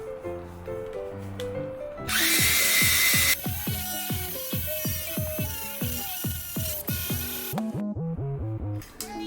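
An electric screwdriver whirs steadily as it polishes HKS intercooler piping with Blue Magic metal polish. A loud high-pitched burst sounds near the start, and the motor drones on with periodic pulsing.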